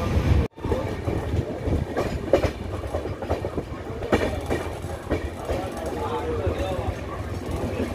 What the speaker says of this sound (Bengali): বন্ধুরা, আমাদের এই অগ্নিবীণা এক্সপ্রেস চলে এসছে তার সেকেন্ড লাস্ট স্টপ বর্ধমানে